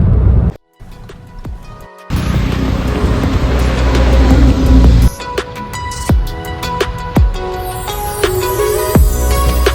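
A car drives along a tree-lined road, its engine and road noise loud and close, cutting out briefly, then rising to a steady drone with intermittent thumps and shifts in tone.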